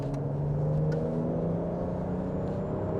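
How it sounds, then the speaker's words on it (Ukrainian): A BMW X5 E70 accelerating hard to overtake, its turbo spooling up as a faint high whine over a steady, loud engine drone heard from inside the car. "Турбінку чути. І він прям поїхав."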